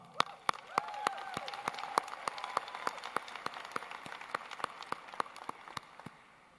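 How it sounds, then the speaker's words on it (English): Audience applause at a fall 2018 commencement ceremony for Ultimate Medical Academy, sparse individual claps spaced out with a low crowd murmur underneath, heard at a moderate distance rather than a full ovation. "I give all the faculty and staff at UMA a round of applause."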